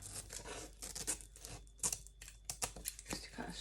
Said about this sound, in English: and use your scissors